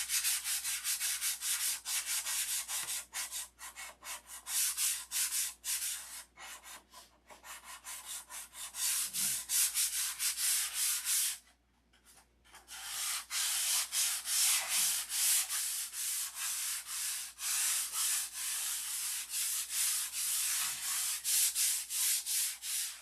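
Steady hand sanding of a model airplane, a continuous gritty rubbing with back-and-forth strokes, up close; a brief pause midway before the rasping resumes.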